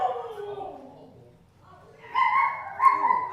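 A dog gives short yips and a whimpering whine, with a brief bark-like call near the end, close by in a quiet room.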